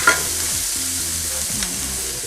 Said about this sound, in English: We're gonna add in our flour, and this is 1/3 of a cup. And we're just gonna kind of stir it in.